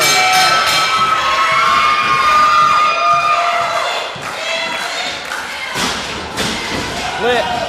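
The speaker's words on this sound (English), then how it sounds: "The crowd already fired up." Wrestling crowd at an NWA Mountain State show cheering and shouting loudly before a match, a dense, sustained roar with thuds and yells, under a nearby announcer's voice.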